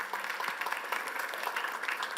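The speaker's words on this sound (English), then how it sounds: "And applause, please." Polite applause from a conference audience at a health innovation forum, soft and fairly distant, a steady patter of clapping lasting the whole moment.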